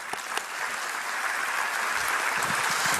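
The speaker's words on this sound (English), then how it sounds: "I'd give them a round of applause" Applause from an audience at a political talk, a steady wash of many hands clapping throughout, fairly even and moderately loud, with no talking.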